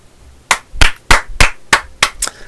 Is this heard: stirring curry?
no